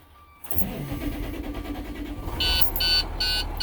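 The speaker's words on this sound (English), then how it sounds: "you can start the vehicle" A truck engine cranks and catches during an in-cab pre-trip inspection, settling into a steady rumble with a few short high-pitched chirps near the end.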